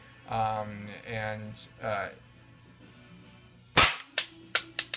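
An Umarex HK USP 9 mm gas blowback airsoft pistol fires a loud, close shot, then a quick string of four sharp cracks, each with a snappy mechanical report; a person speaks briefly before the shooting starts.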